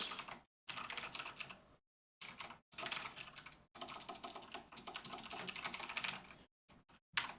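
Quick bursts of typing on a computer keyboard, clattering keys in rapid uneven runs broken by short silent pauses, close and clear with no talking.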